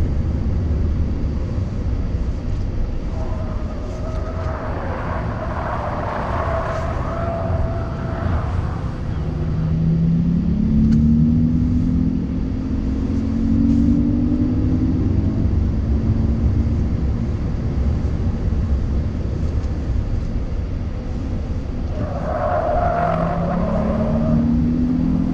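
A 2019 Jaguar I-Pace AWD electric car accelerates hard on a racetrack, its motor giving a rising whine in two separate surges over steady road and wind noise inside the cabin.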